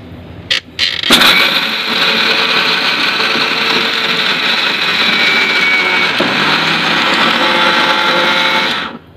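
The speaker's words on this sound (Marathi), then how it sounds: "आता हे वाटायचं आहे आपल्याला पाणी टाकून" A mixer grinder churns roasted chillies, garlic and peanuts with water, giving a loud, steady whirring roar that runs for several seconds after a couple of short starting bursts, then stops abruptly.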